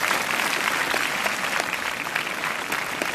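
Audience applause at a Christmas message gathering at IIIT RGUKT, a dense, steady crowd clapping that fills the whole moment without pause.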